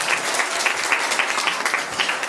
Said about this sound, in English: So Terry, everybody, round of applause.